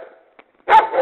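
A dog barks once, loud and close, after a brief faint whimpering note, on a walk through Petropavlovska Borshchahivka.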